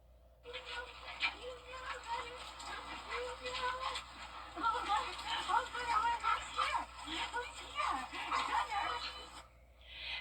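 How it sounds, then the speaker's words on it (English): Dogs excitedly greet their returning owner outside a New England home, giving eager whimpers, yips and short barks mixed with people talking and fairly low background noise. "finally reunited with her dogs Gunner and Garvey outside her New England home"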